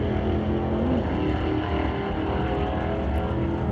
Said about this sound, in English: Wheels up launch as he'll jam through the gears down track